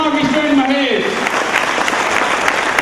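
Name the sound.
audience applause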